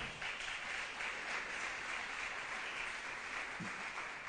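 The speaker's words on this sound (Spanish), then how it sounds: "¿Se anima a darle un aplauso fuerte al Señor?" A congregation at a church service applauds, giving a strong round of applause to the Lord during a sermon. The clapping is a continuous, even wash of many hands at moderate distance, with no voices over it.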